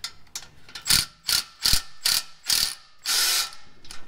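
A hand ratchet tightening a cat-back exhaust clamp on a third-generation Toyota Tacoma: six or seven loud, close bursts of rapid clicking, each a short stroke separated by brief pauses, with no talk.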